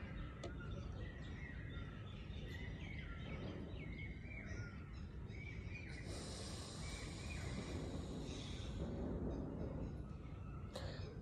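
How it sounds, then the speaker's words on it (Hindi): Distant birds and peacocks call in the open air, scattered chirps and cries that stay faint over a steady low background hiss throughout. "पक्षियों की आवाज़ दूर, मोरों की आवाज़ भी सुनी"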